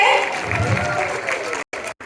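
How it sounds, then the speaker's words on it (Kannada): Audience applause at a stage drama performance, a burst of clapping and crowd noise mixed with an amplified voice, cutting out abruptly near the end. "ಬರಲಿ ಚಪ್ಪಾಳೆ"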